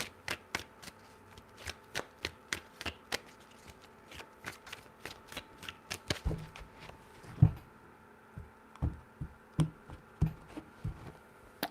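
Cards being shuffled up close, a rapid series of crisp riffles and taps that slows into a few separate bridges and knocks.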